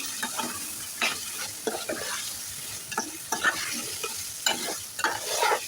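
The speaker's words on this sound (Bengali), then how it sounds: "এখন নেড়ে ছেড়ে সব মশলার সাথে ভালোভাবে মিশিয়ে নেব" Chicken pieces being stirred into fried spice paste in a pan for a potato and country chicken curry, with repeated scraping spatula strokes and irregular clinks over a steady sizzle, close and fairly loud.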